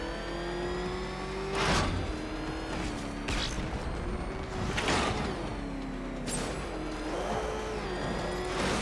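A car engine in a Batman video game revs and drones continuously, its pitch wavering as it accelerates, with repeated bursts of crashing impacts breaking through the steady motor hum.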